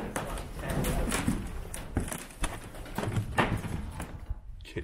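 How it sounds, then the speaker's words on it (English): Pigeons in the ceiling of an abandoned printworks, with soft cooing over a busy, echoing background of shuffling, knocks and footsteps that runs throughout. "I don't like that there's pigeons in the ceiling."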